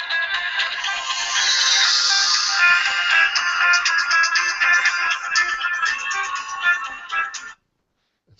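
A mobile phone ringtone plays loudly and steadily for several seconds as a bright repeating electronic melody, then cuts off abruptly.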